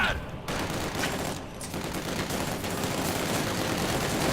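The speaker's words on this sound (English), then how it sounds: "immediately coming under heavy fire here" Dense, heavy gunfire rattles through a Company of Heroes 2 battle, with sustained fusillades and machine-gun bursts filling the whole stretch, loud and close.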